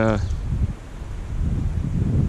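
Low gusty morning wind at a riverside camp rumbles and buffets the microphone after a brief snippet of a voice at the very start.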